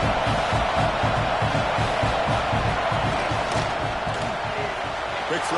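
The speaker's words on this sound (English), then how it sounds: "And here comes the noise. This crowd is trying to inspire this defense to make a big red zone stop." A college football stadium crowd roars continuously at a red zone defensive stand, a loud, dense wall of noise with rhythmic thumping and shouts, heard in a video game broadcast.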